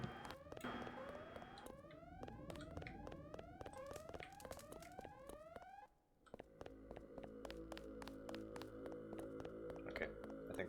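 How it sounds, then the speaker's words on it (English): An alarm in Queen's Tower in the Deus Ex video game rings faintly in repeating rising electronic sweeps, then switches to a steady pulsing tone after a brief dip, with no talk over it. "Don't mind the alarm."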